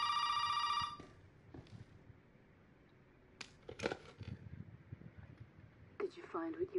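Telephone ringing in the video game Resident Evil 7: a loud electronic ring sounds for under a second at the start, then stops, followed by footsteps, clattering and in-game speech.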